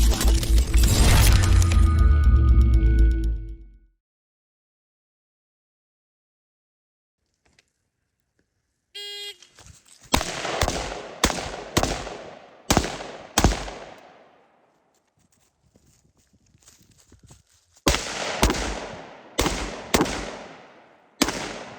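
Rifles fired on a shooting range: a loud blast at the start, then a long silence, then sharp single reports and quick pairs of shots, each with a decaying echo.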